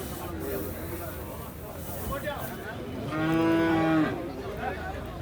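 A water buffalo bellows once at a busy cattle market, a loud, drawn-out low moo lasting about a second amid crowd chatter and nearby voices.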